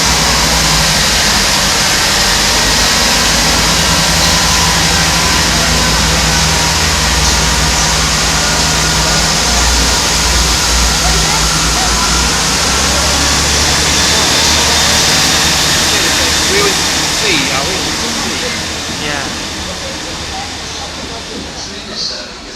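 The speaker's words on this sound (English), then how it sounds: "So enjoy the class 166 leaving." A British Rail Class 166 diesel multiple unit pulls away from a platform at Newport, Wales, its engines roaring loud and close with a steady throbbing drone and hiss, then fading as it departs.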